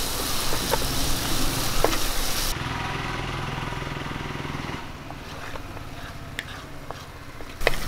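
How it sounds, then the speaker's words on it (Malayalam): Turmeric and coriander powder fry and sizzle in a pan for a mackerel fish curry while being stirred, a steady dense hiss with occasional scraping ticks and a low rumble underneath. "നമുക്ക് പച്ചമണം മാറുന്ന വരെ ഒന്ന് ഇളക്കി കൊടുക്കാം."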